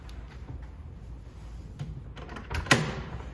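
A storage hatch in the bow of a 2022 Boston Whaler 280 Dauntless is popped open with a single sharp, close click near the end, over a low steady background rumble.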